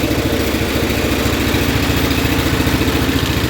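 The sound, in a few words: Kohler K341 16 HP engine idling on John Deere 210 tractor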